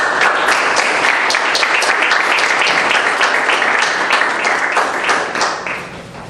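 Warm, steady applause from a lecture audience welcoming a speaker, many hands clapping densely and loudly before the sound starts to taper off at the end.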